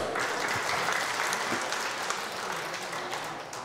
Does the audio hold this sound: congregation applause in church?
yes